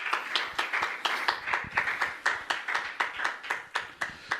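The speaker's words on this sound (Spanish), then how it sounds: "Démosle un aplauso a nuestro Señor Jesucristo." A congregation at a church service claps in a steady, fairly quick rhythm of sharp hand claps, close and clear, with no talking over it.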